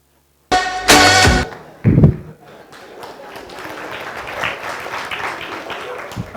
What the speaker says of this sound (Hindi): पता नहीं किसके लिए ताली बजाई आपने।